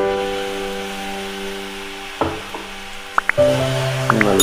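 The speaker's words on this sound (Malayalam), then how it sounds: "ഇനി അരച്ചു വെച്ച തക്കാളി ചേർത്ത് കൊടുക്കണം." Ground tomato dropped into onions and ginger paste frying in a pan for Kerala-style paneer fry, a steady sizzle that jumps into sharper spatters and stirring clatter as it goes in, close and fairly loud.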